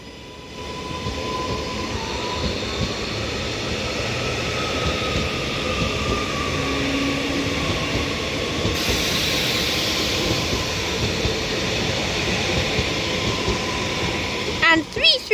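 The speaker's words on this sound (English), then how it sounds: "Now departing is going to be the 1636 Northern service to Manchester Airport from Liverpool Lime Street with a double class 331." A double Northern class 331 electric train departs Liverpool Lime Street, heard as a steady rumbling roll with a rising electric motor whine, continuous and close, with some talk present.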